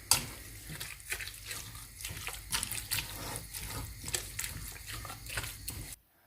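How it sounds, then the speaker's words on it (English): A kitchen tap runs steadily while relish is being made, a continuous close splashing hiss that cuts off abruptly near the end. "So I've just turned the water on in there"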